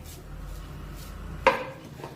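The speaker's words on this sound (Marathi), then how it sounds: "सतत हे खोबरं असं परतत राहायचं आहे जेणेकरून ते खालून करपणार नाही" A spatula stirs grated fresh coconut in a pan over a low flame. A soft background hush is broken by one distinct scrape-clink against the metal and a fainter one just after.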